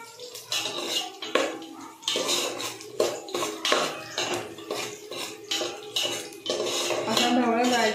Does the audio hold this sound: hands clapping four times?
no